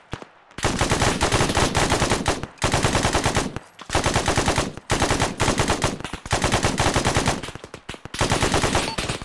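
Rapid automatic gunfire in the military shooter game Arma 3, loud close machine-gun bursts of a few seconds each, separated by short silent pauses, no talking.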